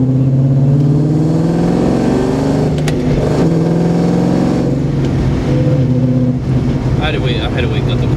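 A Ford Mustang, originally a V6 car now carrying a swapped 5.4 V8, revs and idles close by in a loud, rumbling engine drone with a few throttle rises, with people talking over it.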